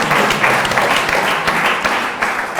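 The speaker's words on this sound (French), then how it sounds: "Et on peut applaudir." Audience applause during a round-table discussion, a steady wash of many hands clapping together, dense and fairly loud throughout with no talk over it.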